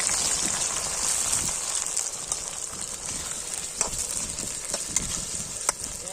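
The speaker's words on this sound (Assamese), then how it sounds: "পিঁয়াজ আৰু জলকীয়াটো ভাজি লওঁ" Onions and green chillies fry in hot oil in a kadai at an outdoor cooking session, giving a dense, steady sizzle like rain on a surface, with scattered stirring clicks and spatters close by.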